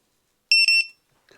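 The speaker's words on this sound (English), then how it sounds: "it's a buzzer and a little battery all in one" A drone buzzer beacon with a built-in battery lets out a quick series of three sharp, piercing electronic beeps up close, then falls quiet.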